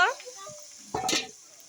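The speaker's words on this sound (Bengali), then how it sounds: "এবার মাছ ভালোভাবে কষায় নিব।" Fish with ground spices and fried onions hitting a hot pan, a short sharp sizzling burst after a brief voice, then a quieter fading hiss.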